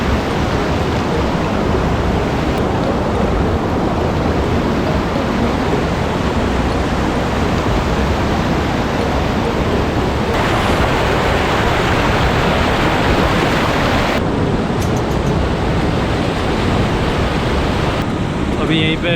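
Steady, loud rushing water fills the whole stretch, a dense broadband roar of a fast-flowing river confluence close by at Sonprayag on the Kedarnath route, with no pauses.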